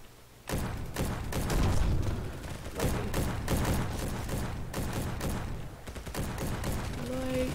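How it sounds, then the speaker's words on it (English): Rapid bursts of automatic gunfire from nearby players in a shooter video game crackle almost continuously, loud and close, with brief gaps between volleys. "These guys that shoot right next to me are kind of loud a little bit."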